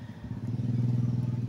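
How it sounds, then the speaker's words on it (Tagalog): Motorcycle engine drone from noisy bikes passing close by, a steady throbbing low rumble with a pulsing rhythm, loud and continuous with no talk. "masyadong maraming motor na maingay talaga dito sa amin"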